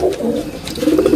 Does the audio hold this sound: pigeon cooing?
yes